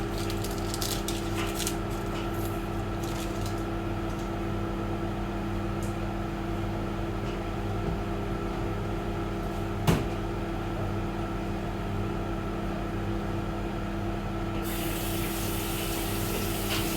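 A microwave oven runs while cooking a high-protein breakfast, giving a steady, even hum for the whole stretch, with a single faint click partway through and a brighter hiss entering near the end.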